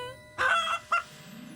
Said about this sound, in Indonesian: Jangan lupa ayam.